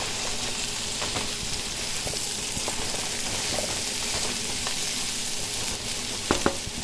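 Chopped bottle gourd fries in a pan with a loud, continuous sizzle, broken by scattered scraping clicks as it is stirred, with a few sharper knocks near the end.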